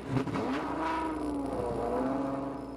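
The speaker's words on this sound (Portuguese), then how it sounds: "faz um barulhão do caramba esse carro" A car engine in Roblox Driving Empire starting and revving, a steady mid-pitched drone that rises and falls in a smooth rev, moderately loud and alone with no talk.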